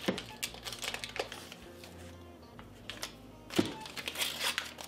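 A butter wrapper crinkles and rustles as it is opened in a home kitchen, with close, intermittent crackling bursts and a louder crumple near the end.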